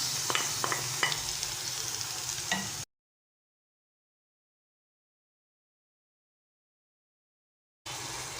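Minced meat sizzles and fries in a hot pan as it is stirred, with a few sharp clatters in the first seconds, then a long silent gap before the sizzle returns briefly at the end.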